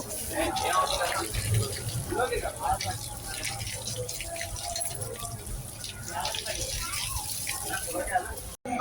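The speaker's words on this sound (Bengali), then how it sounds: "বন্ধুরা, এখানে পাও ধোয়ার সিস্টেম রয়েছে, তাই আমিও আমার পাওটা এখানে ধুয়ে নিব।" Tap water runs steadily for foot washing at the Om Sai Baba temple in Hyderabad, a continuous close gushing splash with faint voices in the background.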